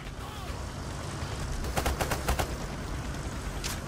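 Video game gunfire from Payday 3, with a quick burst of several close, sharp shots in the middle over a constant busy background of game noise, then one further shot near the end.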